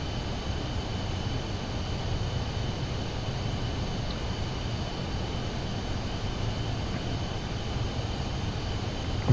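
Aircraft engine in a VR flight simulator game during a medevac mission: a loud, continuous, even drone with deep rumble and a steady hum, unchanging throughout.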